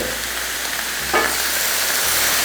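Cabbage and other vegetables for pancit being tossed and stir-fried in a hot pan, giving a steady close sizzle with a brief scrape of stirring midway.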